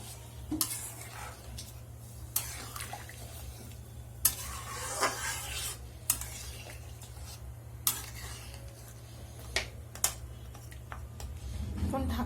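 Prawn malai curry cooks in a pan with water being added, a soft sizzle and simmer under repeated utensil clinks and scrapes against the pan, with a low steady hum beneath.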